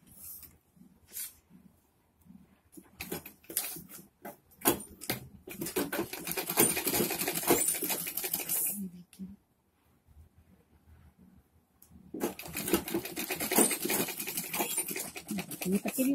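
A sewing machine runs a loose basting stitch on a padded designer blouse. There are two long bursts of steady whirring with short taps and handling noise before and between them, close and fairly loud.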